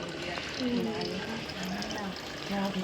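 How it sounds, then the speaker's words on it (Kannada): Water runs from a tap into a bottle, a steady, thin trickle with rising gurgles, heard close with some background noise. "ಇಷ್ಟು ಬಾಟ್ಲು ನೀರು ಹಿಡಿತಾ ಇದ್ದಾರೆ"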